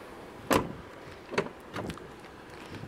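Electric windows on a Jeep Compass 2.4 Limited hum in short motor bursts inside the car, with three brief whirring pulses close and fairly quiet against a soft background.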